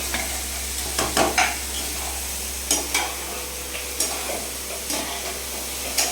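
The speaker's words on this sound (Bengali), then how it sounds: "পেঁয়াজ কুচি গাজর কুচি আর আদা কুচি রসুন কুচি লঙ্কা কুচি যা যা ছিল সব কিছু দিয়ে এটা ভেজে নেবে" Chopped onion, carrot, ginger, garlic and chili frying in a pan for momo filling make a steady sizzle, broken by repeated scraping stirs with a spatula roughly every second or so, close and moderately loud over a low constant hum.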